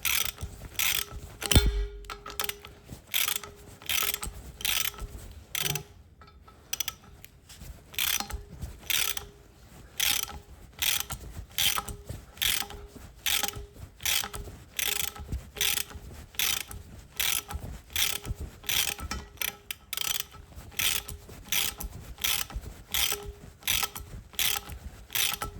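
A ball joint press on the front suspension of a 2006 Ford Econoline E350 is cranked down with a ratchet, producing a long, even series of sharp ratcheting clicks in steady rhythm, close by.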